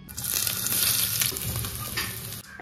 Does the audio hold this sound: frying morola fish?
yes